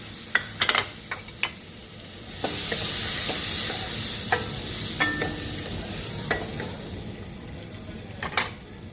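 Finely chopped onions drop into hot oil with a loud burst of sizzling that holds steady for several seconds, framed by sharp clinks and scrapes of a spoon stirring against the pan. No voices.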